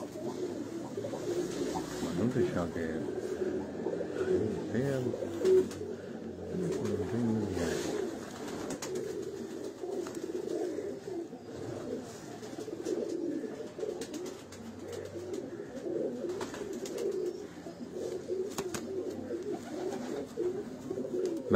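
Breeder pigeons in Gujrat coo softly and repeatedly in a low, continuous murmur, with faint background noise throughout.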